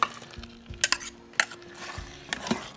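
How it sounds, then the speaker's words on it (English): Chicken madras curry being stirred in a pan, a soft sizzle under repeated scrapes and clinks of a spoon against metal, close and brisk with no talking. "Give it a quick mix, stir it around"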